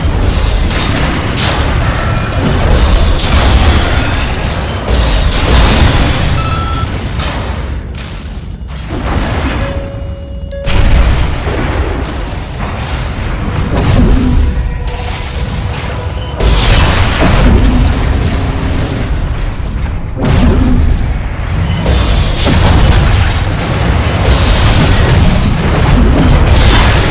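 Mech combat in the Armored Core video game, with dense booming explosions, bursts of weapons fire and mechanical clanks filling the whole stretch loudly, layered over a game soundtrack with no talk.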